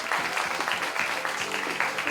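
A crowd at a Korean TV drama press event claps in dense, steady applause, fairly close and loud, lasting a couple of seconds.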